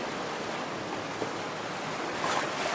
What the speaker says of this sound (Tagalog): humahampas yung alon